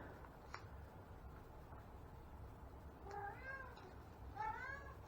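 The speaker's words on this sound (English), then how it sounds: "I have a cat, by the way." A cat meows twice indoors, a pair of short rising calls close by over faint room noise, with a light tap just before them and no talk.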